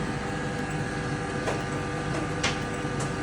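Steady whirring hum of a centrifuge spinning a blood bag in a disc during a PRP hamstring treatment, a continuous mechanical drone with a few brief faint clicks, close by and without talk.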